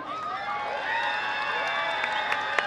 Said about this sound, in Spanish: Aplausos para pareja número uno.